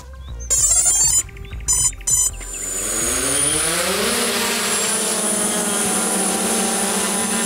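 A camera drone on a film set starts up with a few electronic beeps, then its rotors spin up into a steady, loud, rising whine that continues as it hovers close by.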